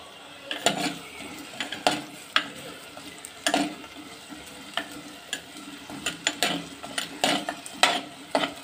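Onions sautéing in a pan with a pinch of rock salt for a Tamil fish curry, a steady low sizzle under repeated scraping and stirring strokes of a spoon against the pan, close and moderately loud with no talk.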